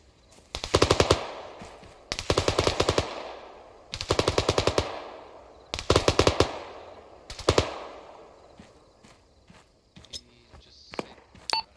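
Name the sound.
heavy machine gun fire in video game Arma 3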